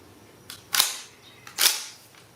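The trigger of a Winchester SXP 20 gauge pump shotgun is pulled twice, giving two sharp, close mechanical clicks about a second apart with no one speaking.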